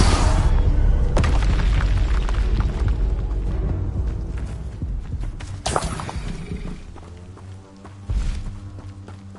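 Spell blasts in Hogwarts Legacy: a Confringo explosive spell among other combat casts, heard as deep booming bursts with sharp onsets, one opening big impact and further blasts later, no talk.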